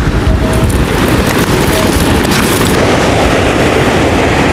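Strong gusting wind roars loudly and continuously across an open field where a kite with a bird-call flute is being flown, the broadband rush steady throughout with no voices.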